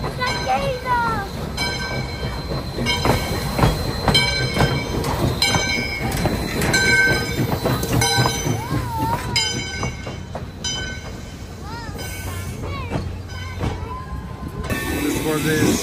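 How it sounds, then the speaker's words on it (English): Polar Express steam train in Essex, Connecticut arriving at the station, loud continuous rumble with clanking cars and squealing wheels close by, while people talk excitedly over it. "Here the train comes."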